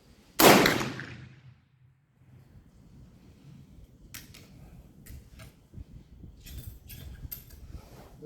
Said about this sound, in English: But we're gonna shoot it anyway.